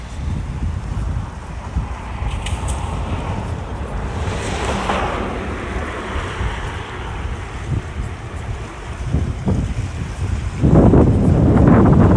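Estuary water near Odesa lapping gently at the shore, a soft continuous wash blended with wind buffeting the microphone, growing louder and closer near the end.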